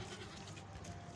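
Goat bleating at a livestock market amid a steady crowd din, with low rumbling background noise and no clear speech over the short stretch.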